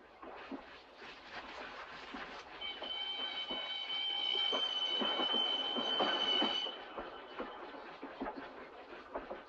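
A train rolls steadily along the rails with a rumbling clatter, and high metallic wheel squeals rise in the middle before fading back to the running noise.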